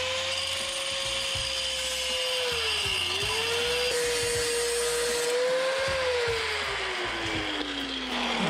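A steady, loud whine of a power cutting tool slicing through a mini bike's metal exhaust pipe, its pitch sagging and recovering as the blade bites, running without pause and with no voices.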